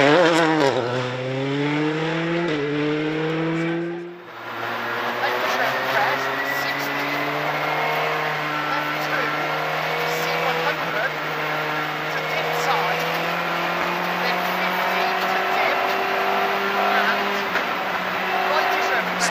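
A Skoda Fabia WRC rally car runs a stage on narrow Irish lanes, its engine revving up through gears, a short pause at a shift, then a sustained loud high-revving roar close by.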